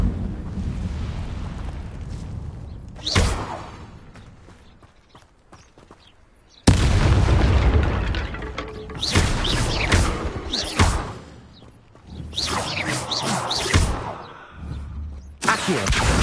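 The Incendio fire spell goes off repeatedly in Hogwarts Legacy, loud whooshing bursts and fiery blasts separated by quieter stretches, with several roaring eruptions in sequence.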